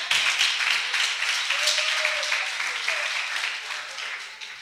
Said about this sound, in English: You might as well clap your hands